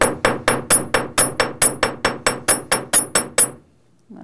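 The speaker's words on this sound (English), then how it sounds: "using my chasing hammer, I'm going to flatten just the end" A chasing hammer strikes the end of a wire on a steel bench block, flattening it for a jewelry clasp. About fourteen sharp, ringing metallic blows land in a steady, quick rhythm, close and loud, then stop abruptly.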